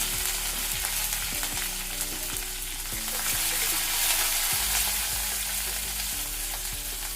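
Green chillies and garlic fry steadily in a hot pan, giving a continuous loud sizzle with faint stirring scrapes. No voices.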